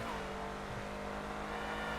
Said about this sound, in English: I just got attacked by a tractor trailer.